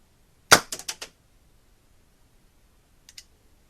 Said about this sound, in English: Now to fire, all that needs to be done is to squeeze the trigger.